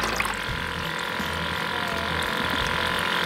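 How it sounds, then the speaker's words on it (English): An aerator pump running in a bucket of minnows being dyed for crappie fishing, giving a constant close bubbling, watery rush that stays even throughout. "Very important to have an aerator on these minnows when you're dyeing them also."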